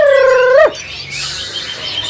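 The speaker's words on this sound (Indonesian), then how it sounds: "Nah itu murai Borneo mas. Gacor juga." A Bornean white-rumped shama (murai Borneo) sings a loud, clear, rising whistled note close by at a bird kiosk, then a softer chirpy phrase follows over faint background noise.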